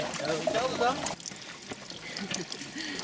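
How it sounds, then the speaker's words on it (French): A natural spring trickles outdoors with a soft, continuous burble of running water. People talk over it, most strongly in the first second, before the water carries on more quietly. "Il y a une source Isabelle"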